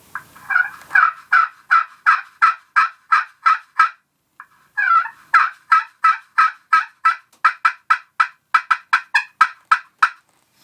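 Aluminum friction turkey call played close and loud, giving a long run of rapid, evenly spaced yelps with a short pause midway before the yelping resumes.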